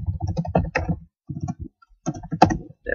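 Typing on a computer keyboard into a web browser, close and clear, in quick bursts of key clicks with short pauses between them.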